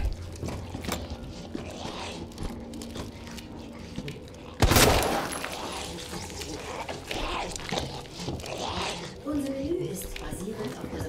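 Gunfire in the video game Resident Evil 2 Remake, one loud sharp shot standing out amid crunching, squelching game effects, with someone talking over much of it.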